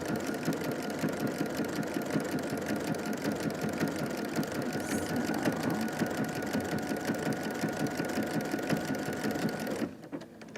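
An Ellis quilting machine fitted with a walking foot runs continuously at a steady, fast stitching pace, loud and close, with its even mechanical hum and clatter stopping abruptly near the end.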